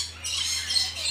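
A bird resembling a magpie-robin squawks in short, shrill bursts at a safari park, fairly close and with no voices over it.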